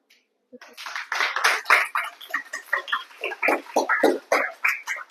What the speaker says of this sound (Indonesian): Aplaus dulu kelompok 5.